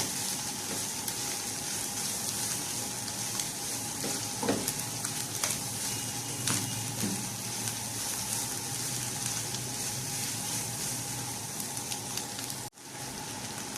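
Black pepper and chicken powder are stirred together in a pan for a chicken bread roll filling, giving a soft continuous sizzle with occasional scraping strokes of the spoon, faint and with no talking.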